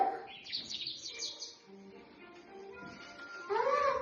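Birds chirp in quick, bright trills at moderate volume, clustering near the start and swelling again at the end, with faint background voices and room noise between the calls.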